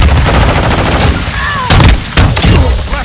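Loud automatic gunfire from a Call of Duty: Modern Warfare II Hardpoint match rattles in close, sharp bursts with a couple of heavy blasts, as a voice shouts over the fight.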